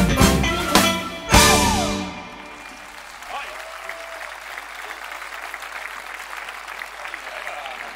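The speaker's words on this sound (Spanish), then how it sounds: "darles un aplauso" Audience at a Eurovision-themed band festival applauds after a song. The music ends abruptly, then a steady wash of clapping continues at moderate volume for several seconds.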